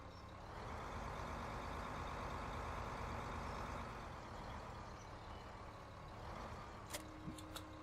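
Farm tractor in Farming Simulator 15 driving along, a steady droning engine rumble held at an even level, with a few short clicks near the end.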